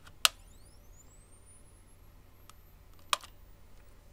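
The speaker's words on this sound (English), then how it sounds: "You can hear a whine as the camera charges up." A disposable camera's flash charges up with a thin high whine rising steadily in pitch, heard faintly alongside two sharp clicks in a quiet room.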